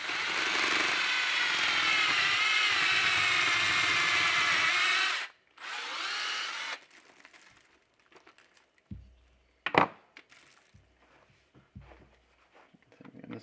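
A power drill whirs loudly and steadily for about five seconds, stops, briefly spins again, then gives way to scattered clunks and handling noises.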